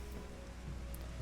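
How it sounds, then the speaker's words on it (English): Steady pouring rain in Final Fantasy XIV, a dense continuous hiss of drops on surfaces at moderate, even loudness, with no speech. "our friends are waiting out here in the pouring rain"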